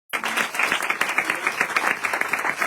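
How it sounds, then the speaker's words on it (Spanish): Audience at a crime-fiction panel discussion breaks into applause, starting abruptly and continuing as dense, fairly close clapping from a room full of people. "Excelente, un aplauso."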